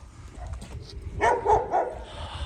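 A handsome male dog gives a few close, short barks and yips, the sound rising toward the end over low background rumble.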